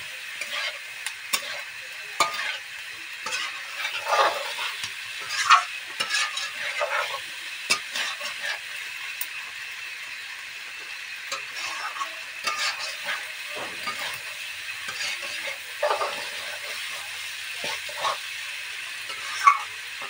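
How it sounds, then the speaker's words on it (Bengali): Pointed gourd and potatoes stir-fried with spices in a pan, a steady sizzle under repeated scraping and stirring strokes from a spatula, close and continuous with no talk. "এভাবে ভালো করে নেড়ে চেড়ে মশলাগুলো দিয়ে পটল আর আলুটা ভালো করে কষিয়ে নিই।"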